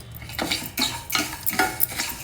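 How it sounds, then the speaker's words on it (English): Rice is dry roasted in a pan over a low flame, with a spoon scraping and clinking against the metal in several irregular strokes, close and moderately loud, with no voices. "Dry roast it over a low flame just for 2 to 3 minutes."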